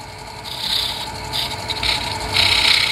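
A detail gouge scrapes and rasps against a turning wooden vessel in a few short passes, cutting a ring close and alone.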